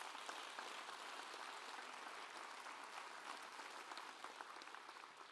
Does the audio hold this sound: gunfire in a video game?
no